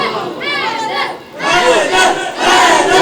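Children at a Muslim religious gathering in Chakwal chant slogans in unison, loud call-and-response bursts of voices in two or three rhythmic waves, close and energetic.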